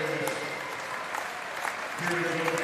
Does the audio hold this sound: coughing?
no